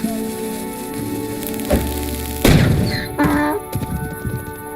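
A firecracker bursts in the video game PRIM, a sharp thud followed by a crackling blast and scattered smaller pops, loud and close, with game ambience around it.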